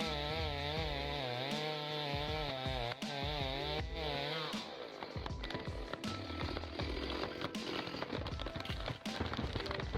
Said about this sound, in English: a 10-foot Douglas fir didn't stand a chance against chainsaws